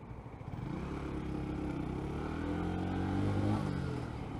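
A car engine revving hard while overtaking a BMW in a race, with a steady, loud mid-pitched drone that climbs in pitch as it accelerates, heard close with no talk.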